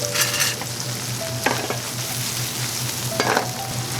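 Minced garlic seasoned with salt and pepper sizzles in a pan for spaghetti Bolognese, a close, bright frying hiss broken by three short bursts of stirring scrapes against a steady low hum.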